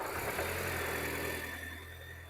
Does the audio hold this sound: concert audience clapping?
no